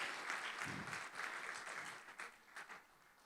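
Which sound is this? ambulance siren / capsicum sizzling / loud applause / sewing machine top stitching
loud applause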